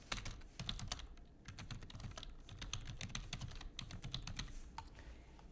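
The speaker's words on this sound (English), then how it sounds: "So first I'm just going to type our names." Names typed on a computer keyboard: quiet, rapid clicking keystrokes in continuous runs with short pauses, heard close and alone.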